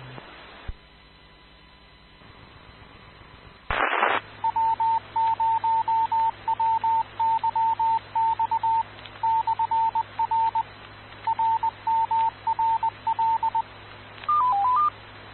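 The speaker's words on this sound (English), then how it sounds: "My satellite phone is booted up and ready." Satellite phone dialing, with a steady run of evenly spaced touch-tone beeps over a hum and radio static, then a short rising-and-falling tone at the end.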